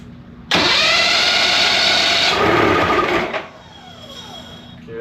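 A Mercury outboard motor with an intermittent spark fault is cranked with the key while choked, giving a loud, steady starter whir for nearly three seconds. It then cuts off and leaves a quieter background.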